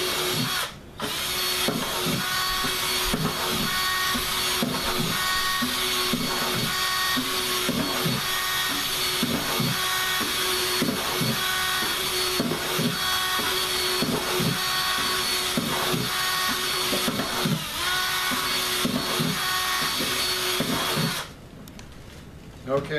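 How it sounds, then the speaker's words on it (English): A drill bit bores holes through the bottom of a plastic bucket for a homemade water filter, a loud, steady whine broken into repeated bursts as each hole is drilled, running close for most of the stretch before cutting off near the end. "I'm going to drill these holes through the bottom of the bucket"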